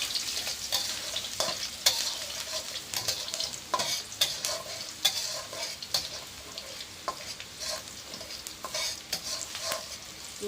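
Garlic frying in hot oil for egg fried rice, a close, steady sizzle broken by frequent sharp stirring scrapes and spatula taps in an uneven rhythm, with no talk.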